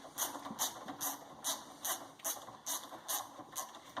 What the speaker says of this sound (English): Take a wrench on the little locker bit. And use your floppiest ratchet.